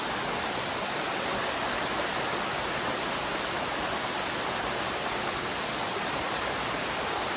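The first waterfall of the Kotaganga cascade in the Knuckles range of Sri Lanka roars as a loud, unbroken broadband rush of falling water, close up and steady throughout.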